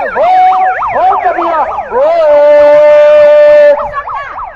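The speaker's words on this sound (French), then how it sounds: "c'est la sirène." A loud wailing emergency siren sweeps up and down outside the InterContinental hotel in Geneva, shifts briefly to a steady held tone, then resumes its rapid rising and falling pattern; a short voice is heard.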